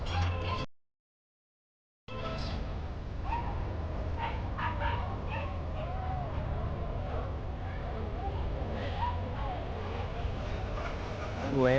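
Dogs bark, yip and whimper at the Blessing of the Animals on Olvera Street in Los Angeles, scattered short cries mixed into dense crowd chatter after a brief silent gap.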